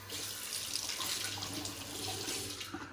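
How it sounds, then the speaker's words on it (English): Water from a bathroom tap runs steadily into a sink for a face rinse after shaving, a close, continuous splashing rush with no voices. "Let me rinse the face"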